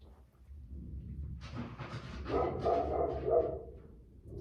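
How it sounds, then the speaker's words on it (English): Dogs bark and yip in muffled bursts, somewhat distant and faint, a short cluster of barks over a low background hum. "Oh, excuse me, that is my therapy dogs."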